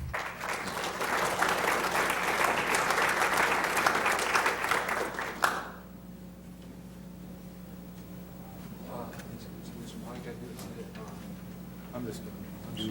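Conference audience applauds loudly and steadily for about five seconds to welcome a speaker at a 1999 JFK assassination conference, then the clapping stops abruptly, leaving a quiet room with faint murmurs and shuffling.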